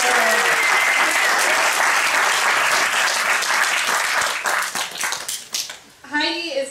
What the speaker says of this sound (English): Can we get a round of applause for you?